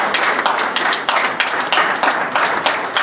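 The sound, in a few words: audience applauding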